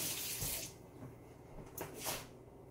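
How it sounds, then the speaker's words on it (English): A tap runs as a spoon is rinsed under it, a steady soft splashing stream that swells and ebbs with a couple of brighter bursts, close but quiet, with no voices. "So I'm gonna rinse my spoon off."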